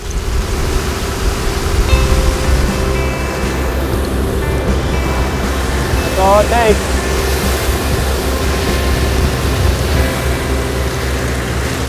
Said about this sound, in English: we fuel up the harvester, we fire it up